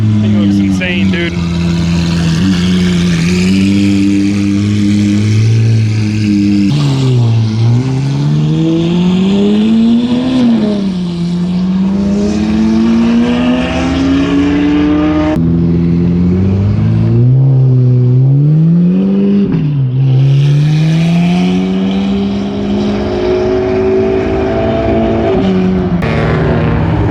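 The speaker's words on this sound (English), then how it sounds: "Seems like we got some Lambos moving, doing something. Heading out, I guess." Lamborghinis leave a car meet with loud, close engine noise throughout. The revs rise and fall in repeated sweeps as gears climb, with talk mixed in among the cars.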